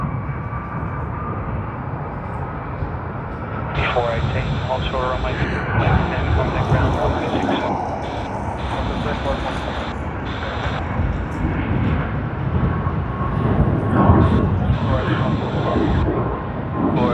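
Qantas Airbus A330-300 jet departing Sydney Airport, a steady broad engine roar held through the whole stretch, with people talking over it.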